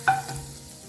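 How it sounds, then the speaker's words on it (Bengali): Garlic sizzling in a hot pan for a broccoli stir-fry, with a short stir at the start and then a steady low sizzle, close and fairly quiet. "গার্লিকটা একটু ভেজে নেব।"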